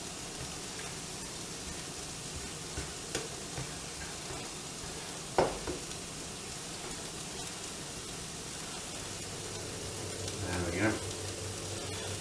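Scrambled eggs and tomatoes cooking together in a single pan give a steady, moderate sizzle throughout, broken by a few scraping and stirring clatters, with a sharp knock near the middle.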